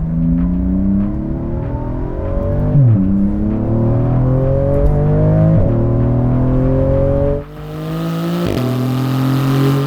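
A Porsche GT2 RS accelerates up through the gears, its engine note rising loudly in repeated sweeps broken by quick shift dips.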